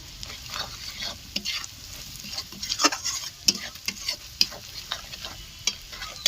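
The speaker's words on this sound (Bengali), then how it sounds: "এটি ভালো করে কষিয়ে নেব। এরপর এর মধ্যে আমি কাঁচা লঙ্কা কুচি দিয়ে দেবো।" A spatula scrapes and stirs chopped green chillies in a sizzling pan for chicken do pyaza, steady crackling frying with irregular sharp scraping strokes that come up close and loud, alone without talk.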